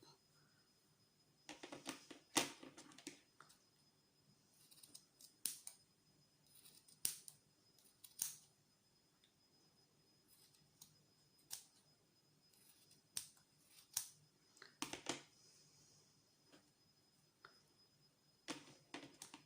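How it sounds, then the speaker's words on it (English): Scissors trim the tops of a fabric gonk hat in scattered short bursts, crisp and close, with quiet pauses between the cuts. "take your scissors and just trim them top bits off"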